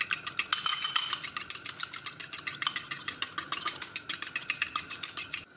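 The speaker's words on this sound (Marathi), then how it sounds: "त्याच्यामुळे साधारणतः आपण इथे 20 ते 25 सेकंद हे अंडं व्यवस्थित फेटून घ्यायचं आहे" Eggs being whisked by hand for a street-style anda omelette, a steady rapid clicking of a utensil against a bowl repeating in a brisk rhythm, close and fairly quiet, with no talking.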